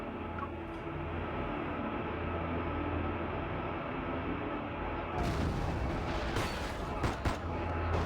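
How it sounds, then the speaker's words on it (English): Gunfire and toppling tables and chairs in the video game Love and Deepspace, heavy rumbling bursts and clattering crashes over a steady dark drone, growing busier and sharper toward the end. "Gunfire and the sound of tables and chairs getting knocked over intermingle with N109 zone slang I don't understand"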